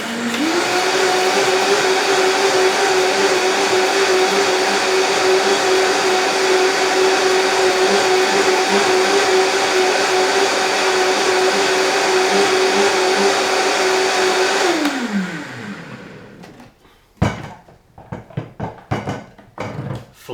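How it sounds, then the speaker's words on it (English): A high-speed blender whirring through cashew nut milk, a loud steady motor drone for about fifteen seconds that then winds down and stops, followed by a few short clunks and rattles. "basically I'm just going to blend this so it's nice and smooth"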